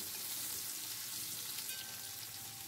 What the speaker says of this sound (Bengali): এইভাবে আমি পেঁয়াজটাকেও ভেজে নিচ্ছি